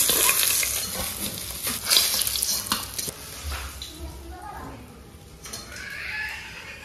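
Katla fish frying in hot oil in a home kitchen, a steady soft sizzle with stirring clatter and faint background voices.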